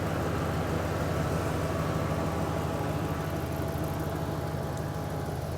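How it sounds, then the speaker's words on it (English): A car engine fitted with an aftermarket intake idles at an auto auction, giving a steady, even low rumble that runs unbroken from start to finish. "It's running smooth. The engine isn't shaking like crazy."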